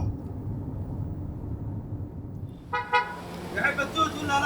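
A car horn sounds a few short toots partway through over a low, steady rumble of road traffic.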